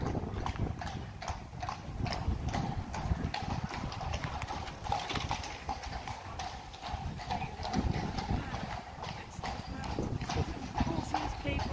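Horse hooves clip-clop steadily along a street in Bruges, a brisk rhythmic patter set in busy street ambience with people talking and traffic murmuring around it.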